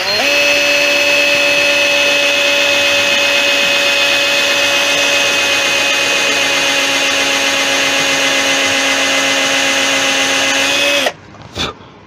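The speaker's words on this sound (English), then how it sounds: "Drill a hole right there." A power drill whines loudly and steadily for about eleven seconds as it bores into wood, then stops, followed by a brief clatter.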